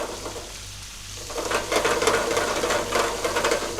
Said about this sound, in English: when you heat the garlic, straight away it starts to break up